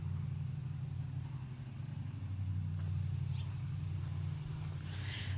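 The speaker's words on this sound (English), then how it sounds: "I'm pretty sure that's the neighbor's son's truck, because I can tell." A neighbor's pickup truck rolls past outdoors beside a garden, its steady low engine rumble close and continuous throughout, with no talking.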